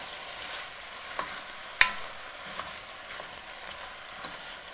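Mexican-style zucchini, calabacitas, stirred in a frying pan, giving a soft steady sizzle with a few light scraping clicks of the spoon, close and fairly quiet, with no talk.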